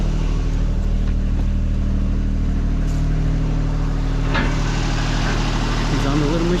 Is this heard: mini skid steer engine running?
yes